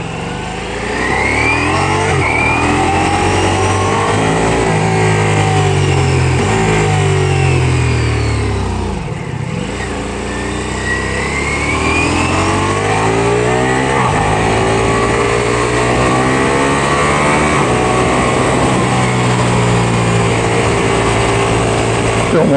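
A 2023 Ducati Diavel V4 motorcycle engine runs loud and close at freeway speed, its deep drone shifting pitch through gear changes and throttle swells, with wind rush throughout.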